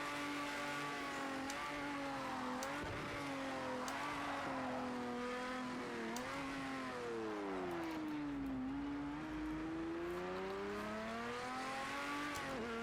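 A race car in Project CARS 2, from the Spirit of Le Mans content, drives hard: a loud engine whines up and down through the gears, then its pitch sweeps low under braking before climbing again, alone with no talk.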